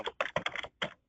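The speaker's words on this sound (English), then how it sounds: "whoever it is that's typing, if you could just mute your" A computer keyboard clatters in quick, close bursts of keystrokes during an online webinar call, with short pauses between clusters of taps and no voices over it.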